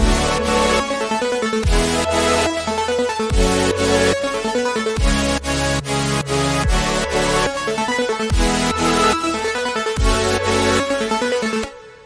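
An electronic music drop built in Studio One, with reverse reverb swells rising into loud, punchy chords. The sections repeat in a steady rhythm, full and dense throughout with no voices.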